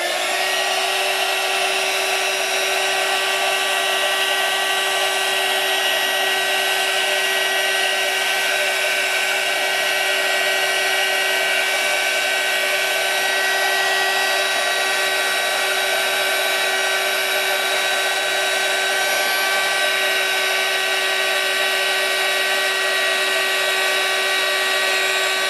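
A steady, continuous whirring blow from a heat tool runs unbroken for the whole stretch, warming embossing powder from underneath, with no talk.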